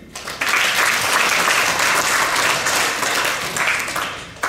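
A crowd at the opening of a regional student Paralympic games applauds steadily, a dense, sustained wash of clapping from many hands that continues throughout.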